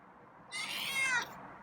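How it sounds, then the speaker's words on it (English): A feral cat gives a single short meow, close but fairly soft, with a quiet background and no talking. "It's a meow, huh?"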